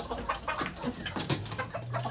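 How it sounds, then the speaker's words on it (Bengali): Desi chickens and a white rooster on a small farm cluck in short, scattered calls close by, over a rough background of movement and scratching. "এখানে রয়েছে আর সাদা কালারের একটা মোরগ"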